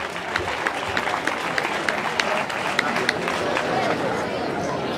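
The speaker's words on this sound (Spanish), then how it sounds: "Un fuerte aplauso para Dani Baena" Crowd applause at the awards ceremony of the X Legua Castellana de Monleras 2022 running race, with scattered distinct claps over a busy background of crowd chatter and voices.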